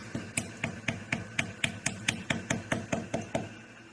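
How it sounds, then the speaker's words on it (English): A small, cheap hammer taps metal in a steady series of about fourteen sharp strikes, driving pieces into a hole while replacing a door frame on a well house, evenly spaced and fairly close, with no talking. "we're going to take a little cheap hammer"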